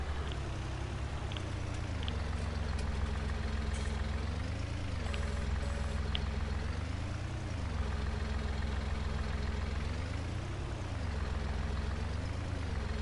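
Tractor engine idling in the Farming Simulator video game, a steady low diesel drone that rises and falls gently in pitch, loud and continuous without speech.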